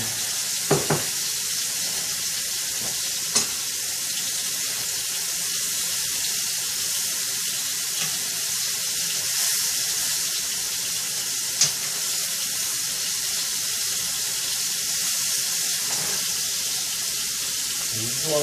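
Sliced marinated mushrooms sear in a hot pan with a steady, dense sizzle throughout, broken by a few sharp clicks and taps near the start and middle. No one speaks.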